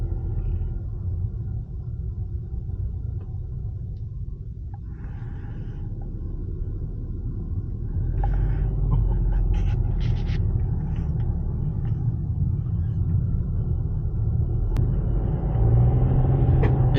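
A car jolts along a rough, broken road near Chiang Dao in Thailand, a steady low rumble of engine and tyres with faint rattles and knocks, growing a little louder partway through, no talking.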